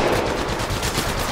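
Close, loud, rapid automatic gunfire from Apex Legends Mobile plays as a continuous stream of shots lasting just over a second, alone without talk.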